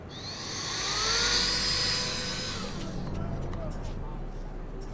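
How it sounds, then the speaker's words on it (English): A loud electric reusable air duster blowing a strong rising whoosh that peaks early, then settles into a steady rushing hiss with faint clicks. "I got an electric air duster recently."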